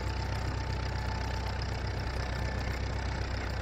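A tractor engine running at full speed in Farming Simulator 19 gives a steady, unbroken drone with a constant low throb. It holds at one pitch throughout and is heard alone, with no talking.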